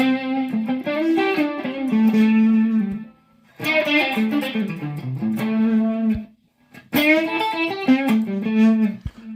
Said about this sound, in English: we're going to go to overdrive